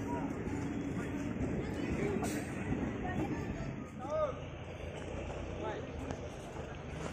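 Train at Dhekiajuli railway station in Assam, a steady rumble of rail noise with station babble, continuous and fairly close throughout, and people talking over it.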